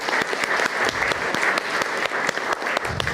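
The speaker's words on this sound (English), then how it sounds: "I think a round of applause for Maria would be fabulous" A lecture audience in Mount Gambier gives a round of applause for an assistant, a steady, moderately loud patter of many hands clapping together without pause.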